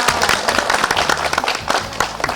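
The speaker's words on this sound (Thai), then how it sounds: "จ่าปรบมือเลยครับ" An audience claps at a local government event in Thailand. Dense, loud applause runs without a break throughout.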